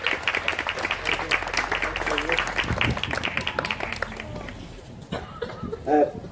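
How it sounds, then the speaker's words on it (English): Crowd applause for Shay at an evening launch event in Castletownbere, dense clapping through the first few seconds that thins out and fades, followed by a brief bump of crowd noise and movement. "give him a big round of applause"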